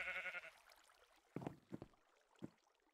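Sheep bleating in the Minecraft modpack SevTech Ages, a short nasal bleat followed by a few sharp game sound effects in a quiet scene.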